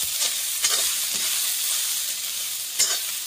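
Pork intestine with blood fries in a pan, a steady close sizzle broken by a few scraping strokes of a spatula stirring it.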